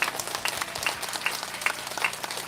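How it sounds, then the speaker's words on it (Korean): Applause for police officers at a Unification Church peace prayer rally in southern Gyeonggi, heard as a steady wash of crowd clapping with faint sharp accents, moderately distant and fairly quiet throughout. "우리 경찰 관계자 여러분께 큰 감사의 박수 보내겠습니다"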